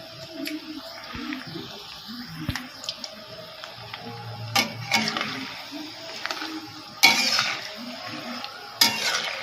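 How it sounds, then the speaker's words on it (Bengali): A spatula stirs red potato pitha frying in a pan, giving soft scrapes and several sharp metallic clinks against the pan over a low sizzle. "ভাজা প্রায় হয়েই এসছে, খুন্তি করে আমি নেড়ে দেখছি"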